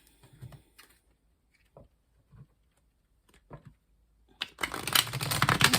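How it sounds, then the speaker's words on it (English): Quiet taps and rustles of tarot cards being handled, then a loud, dense riffle-shuffle burst of flicking cards close up at the end. "I like to give these a really good shuffle while I'm doing the reading"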